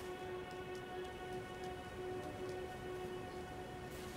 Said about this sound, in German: Oh, es fängt an zu regnen.